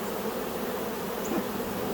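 Gentle honeybees buzz steadily around a hive, a close, continuous droning hum with no voices over it.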